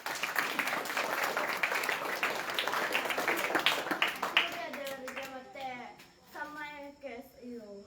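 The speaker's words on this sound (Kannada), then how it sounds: "ಚಪ್ಪಾಳೆ ತಟ್ಟಿ" Children clapping their hands at a student camp, a dense burst of claps that thins out over several seconds as voices take over.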